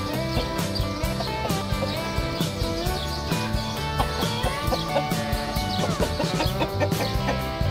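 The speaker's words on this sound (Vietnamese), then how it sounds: "Đây là con gà nồi của anh Bá Trương." A gà nồi chicken clucks repeatedly in short, close calls against a dense, busy background of other bird sounds.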